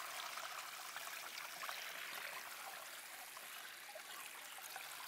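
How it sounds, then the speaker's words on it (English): Pressurized water sprayed over a gold sluice mat to wash it clean, a faint continuous hissing spray with no talk. "I'm going to use a water pressure"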